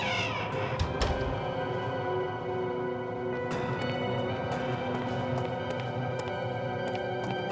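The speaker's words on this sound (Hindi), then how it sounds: "ये आवाज कैसी? कोई बिल्ली होगी।" A cat meows in long, drawn-out wails over a steady background, with a few sharp clicks and knocks scattered throughout.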